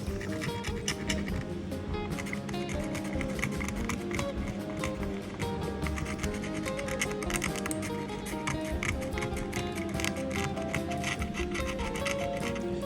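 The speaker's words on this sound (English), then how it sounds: "So you can scrape away a bit." Corrosion is scraped off the circuit board of a Sega Game Gear handheld, a dense run of fine rasping, scratching strokes up close, quick and uneven in rhythm, with no talking over it.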